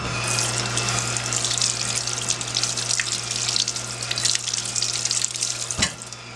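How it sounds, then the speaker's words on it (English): Carrots are rinsed under a running kitchen tap during juice prep, a close, steady hiss of flowing water with a brief knock near the end. "And these I'm going to give them a quick rinse"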